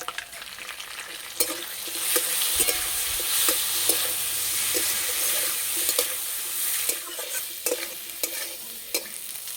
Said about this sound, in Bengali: মশলার সঙ্গে আলু ভালো করে কষিয়ে নিয়েছি